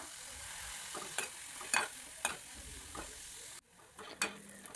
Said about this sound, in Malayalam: അത് നന്നായിട്ട് എണ്ണയിലിട്ടൊന്ന് വഴറ്റാം. അതിലേക്ക് കുറച്ച് കറിവേപ്പില ചേർത്ത് കൊടുക്കാം.